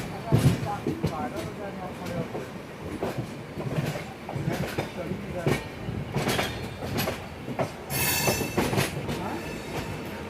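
The 12651 Tamil Nadu Sampark Kranti superfast express runs at speed after leaving Vijayawada, with close rattling clatter, rhythmic rail knocks and occasional wheel squeal while someone talks over it.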